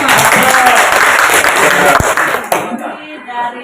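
Classroom applause from teachers and students at an Indonesian school, dense clapping for about two and a half seconds that then breaks off, leaving a quieter room with faint voices.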